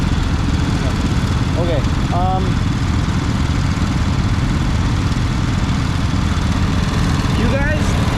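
A riding lawn mower engine idles loudly and steadily nearby while it is backed up and parked at a wooded campsite. Its constant drone is briefly joined by a few short squeaks, and a voice speaks a single word.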